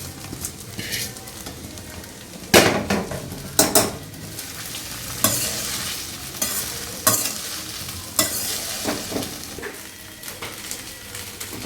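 Peanut pieces frying in a pan crackle and sizzle while a utensil stirs them in repeated bursts, giving loud scraping sweeps against the pan over a constant low sizzle.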